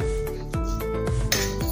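A cooking pot clanks and scrapes on a stovetop as it is set down to heat oil for aloo moong dal chaat, with several distinct metallic knocks and rubbing sounds close by.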